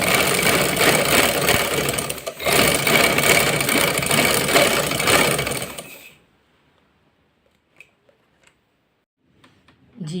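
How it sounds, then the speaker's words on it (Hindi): Sewing machine stitching fabric in a loud, close, continuous run with one brief pause, then stopping abruptly partway through, leaving near silence broken by a few faint clicks. "अब ये देखें मैंने ये पूरी सिलाई कंप्लीट कर ली है।"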